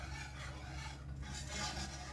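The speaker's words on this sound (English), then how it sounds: "And whisk that in until there are no more lumps." A cream sauce is whisked in a pan to smooth out lumps, giving a faint, brief, continuous scraping and rubbing sound close by.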